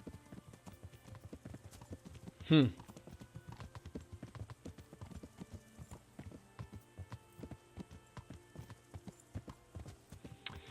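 Horse hooves clip-clopping at a horse farm in the video game Kingdom Come Deliverance, a steady quiet rhythm of soft hoofbeats with one brief whinny-like cry near the start.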